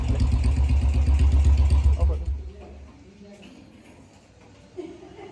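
KTM Duke motorcycle with a cold-start problem, its engine thrumming loud and close for about two seconds before dropping away, leaving a quiet background with a faint voice.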